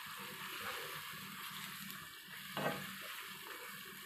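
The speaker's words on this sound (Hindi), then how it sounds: "अब इसे अच्छे से चला देना है ताकि मिक्स हो जाए।" Hand-sliced onions fry in chicken korma, a soft steady sizzle with a single brief stir stroke midway, quiet and close.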